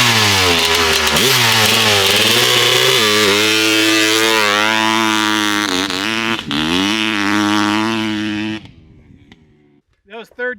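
A 1985 Honda CR500 two-stroke motorcycle engine runs loud and close, revving up and down in waves for about eight seconds before cutting out, leaving brief sputters at the end.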